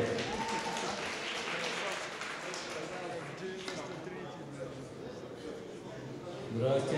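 Audience applause greets a performer at an acoustic music show, a dense sustained wash of clapping from a hall crowd, fairly quiet overall, with a voice briefly over it.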